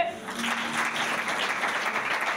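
Church congregation clapping and cheering in worship, a dense, sustained wash of applause with voices mixed in, loud and continuous throughout.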